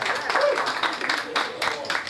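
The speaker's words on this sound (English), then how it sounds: "I also want to welcome a round of applause for Mr. Darren Sheppard" A brief burst of clapping and applause from an audience for a young steel band fusion group, fairly close and uneven, with a voice speaking over it.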